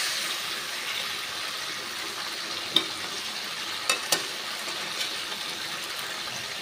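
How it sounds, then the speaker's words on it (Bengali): Potatoes and spices frying in a pan, a steady low sizzle with a few sharp scraping taps from a spatula as they are stirred, quiet and close. "খুন্তি দিয়ে আমি এই সব কিছু একসঙ্গে ভালোভাবে নেড়ে চেড়ে মিশিয়ে নিলাম।"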